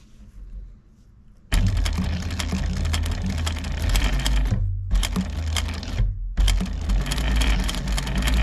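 A sewing machine stitches a zipper and ribbon together in loud, fast, steady bursts of needle clatter and motor hum, pausing briefly twice between runs after a quiet start.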